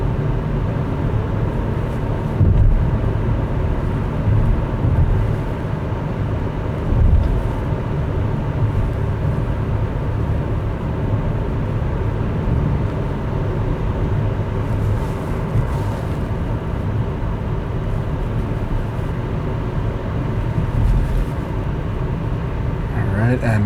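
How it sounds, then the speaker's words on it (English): 2022 Hyundai Elantra 2.0 driven in sport mode, a steady cabin drone of engine and road noise that stays continuous and fairly loud throughout, with no distinct revving peaks. "I'm going to switch over to sport mode, and now we can really feel the engine open up a little bit more"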